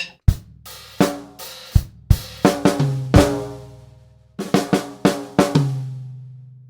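A drum kit plays bars 5 and 6 of a Trinity Grade 3 piece, sharp snare hits and ringing tom strokes, with a brief pause before the second phrase.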